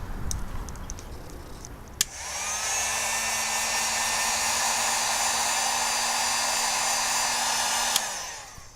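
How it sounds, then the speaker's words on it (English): A heat gun shrinking rubber tubing around a wire crimp clicks on after a brief pause and blows a loud, steady whining roar for about six seconds, then clicks off. "we'll use the heat gun to shrink the rubber around the crimp and make it watertight"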